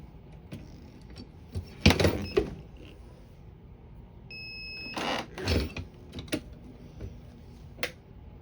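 Creaks, clunks and a brief mechanical whine from a heat press being opened and closed while pressing a DTF transfer onto felt at 375 degrees, irregular handling noises close by with quiet gaps between.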